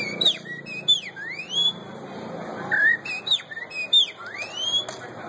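A man whistles imitations of a picharro bird call: a run of sharp rising and falling whistled chirps and slurred notes in uneven bursts, fairly close and clear over a low background murmur.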